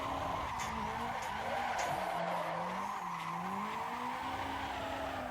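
A car drifting in continuous donuts in Assetto Corsa, tires squealing steadily with a wavering pitch over a loud, constant engine drone, close and uninterrupted throughout.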